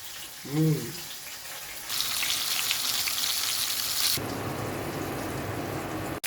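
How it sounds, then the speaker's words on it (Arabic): Fish dredged in flour frying in hot oil in a pan, a steady loud sizzle running for several seconds, with a lower bubbling hiss toward the end and a brief vocal sound near the start. "انا قليت السمك وبقى عالي العال"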